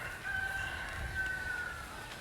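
Rhode Island Red chickens clucking and a rooster crowing in a farmyard with turkeys, steady and moderately loud, with a long drawn-out call running through the middle.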